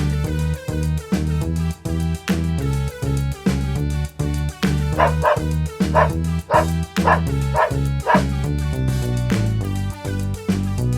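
A dog barks in a short series of yips and woofs, several quick barks in the middle, set over a loud, steady rhythmic music bed.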